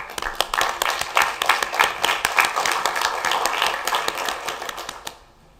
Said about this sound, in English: Please join me in applauding this team